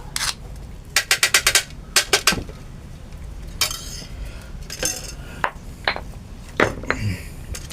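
A metal spoon scrapes and clinks against a plate and pan while ground peanut khada paste is spooned out, in short scattered bursts of sharp taps, close by in a quiet kitchen.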